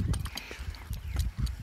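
Horse hooves clip-clop in a quick, uneven rhythm of several close, moderately loud thuds, with no talking over them.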